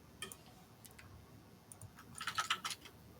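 A password is typed on a computer keyboard, a short run of soft, quick key clicks growing denser and louder toward the end, quiet and close with no voices.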